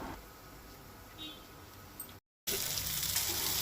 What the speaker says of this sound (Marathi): आतां काळुंदराचे कुडके ते रव्याक लावन दवरलेले ते घालता तेजेर